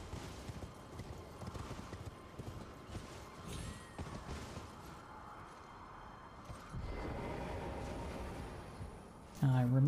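Horse hooves clip-clopping in a fast steady rhythm while riding in Elden Ring, with a player speaking over the galloping.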